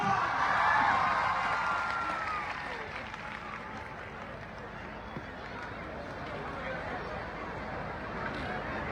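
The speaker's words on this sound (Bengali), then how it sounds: "একটা জোরে হাততালি তুফানগঞ্জ।" Outdoor audience at a live music concert on the SSA Ground in Tufanganj claps and cheers in a dense, continuous wash of applause. It swells at the start, then eases to a steady, slightly distant crowd roar, with a voice audible early on.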